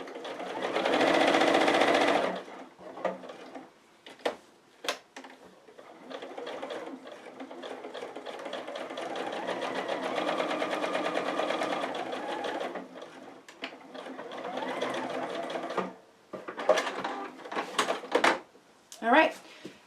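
A sewing machine stitches fabric backed with foam stabilizer, with a loud opening burst followed by longer steady runs of rapid stitching and short stops with clicks, close by, while a voice talks at times.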